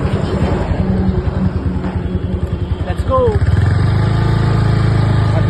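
A motorcycle engine rumbles at idle, then revs up louder and steadier partway through, close by, with voices talking over it.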